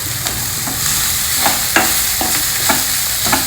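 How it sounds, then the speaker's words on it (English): Washed flattened rice (poha) is tossed into a frying pan and stirred, with steady sizzling throughout and a string of scraping, clattering spatula strokes at irregular intervals. "next we will toss in this washed poha or aval into it"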